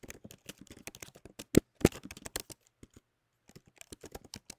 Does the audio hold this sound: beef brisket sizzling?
no